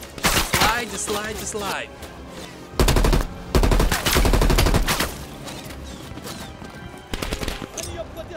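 Bursts of automatic gunfire in the video game Call of Duty Black Ops Cold War, loud and rapid, crackling in several sustained volleys between short pauses, with someone talking briefly over the action.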